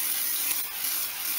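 Solvent panel wipe sprayed from a can onto a Stratocaster guitar body being prepped for metal flake paint, a steady close hiss held for the whole stretch.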